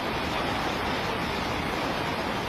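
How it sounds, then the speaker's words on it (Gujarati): Floodwater rushes over the Alidra causeway in Junagadh after heavy rain, a dense, steady broadband roar of torrential flow, loud and unbroken with no voices. "ડરામણો લાગતો પાણીનો પ્રવાહ વહી રહ્યો છે"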